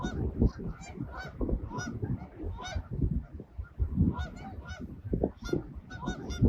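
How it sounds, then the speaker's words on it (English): Canada geese honk near the Lake Huron shore: loud, close, repeated nasal calls from several birds overlapping in an irregular chorus, with no talking. "I've seen a lot of Canada geese stopping by in this area."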